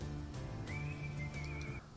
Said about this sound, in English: did I just figure out I have two different whistling songs on here?